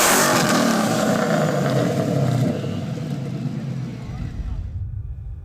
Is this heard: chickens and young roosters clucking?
no